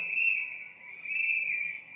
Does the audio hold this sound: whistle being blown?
yes